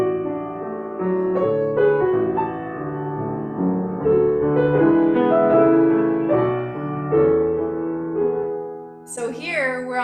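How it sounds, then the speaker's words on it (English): Piano chords played in a short, flowing phrase that settles on an unresolved chord, heard alone and clearly before a voice briefly starts at the end. "a half cadence would sound like this"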